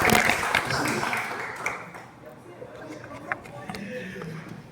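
A church congregation applauds during a Wednesday evening worship service, a loud wash of clapping at first that softens and trails off, with a voice speaking over it.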